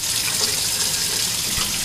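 Hot water pours from a tap into a bucket in a laundry sink, making a steady, close, splashing rush that runs unbroken throughout.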